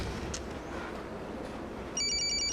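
A pulsing, warbling telephone ring tone starts abruptly and repeats in quick beeps over a quiet background hiss as a parent calls their son.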